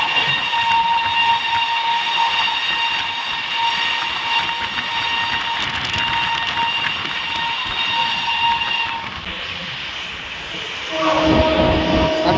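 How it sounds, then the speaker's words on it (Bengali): The Himgiri Express rushes along at about 120 km/h, a loud continuous rumble and clatter of wheels on rails heard from inside the train, with a sustained horn tone sounding throughout. "ট্রেন এখন দেখো 120 কিলোমিটার বেগে ছুটে চলেছে।"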